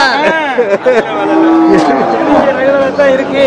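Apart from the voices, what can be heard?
Kangayam cattle mooing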